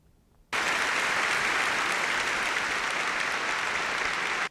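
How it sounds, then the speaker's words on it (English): An audience at the 2020 AIA Cleveland Design Awards applauds honorees, a sudden, full burst of many hands clapping steadily for about four seconds, then stopping abruptly, with no voices. "Please give them a round of applause."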